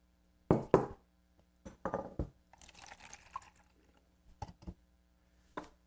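Hot water poured into a small measuring cup, about 8 ounces, for mixing a ceramics brushing medium; short knocks and splashy trickles come in separate bursts, close and fairly quiet, with no talking.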